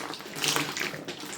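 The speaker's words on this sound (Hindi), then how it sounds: "मैं फिर कुल्ला करूंगा हाथ धो करके" Water from a tap runs and splashes briefly as someone rinses the mouth and washes the hands during a yogic cleansing practice. It is short and fairly soft, with no talk.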